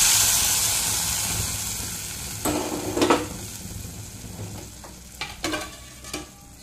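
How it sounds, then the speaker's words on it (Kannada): Hot oil tempering with curry leaves, garlic and asafoetida hits the pot in close, loud bursts of sizzling and hissing, with stirring and clinks of utensils between the bursts. No one speaks. "ಇವಾಗ ಒಗ್ಗರಣೆಯನ್ನು ಹಾಕ್ತೇನೆ."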